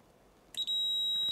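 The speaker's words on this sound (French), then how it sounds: "on va juste vérifier vite fait que ça bip entre du coup le connecteur ici" A multimeter continuity test on a wine cooler's circuit board: a sharp high electronic beep starts abruptly after a brief contact click and holds steady, loud and close.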